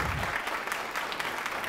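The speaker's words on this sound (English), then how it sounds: "if you'll stand up and everybody will clap for you" Church congregation clapping together, a dense, even wash of applause that fills the whole moment at steady loudness.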